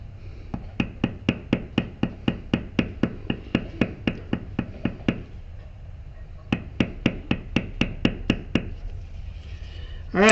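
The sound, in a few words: striking a beveler to tool leather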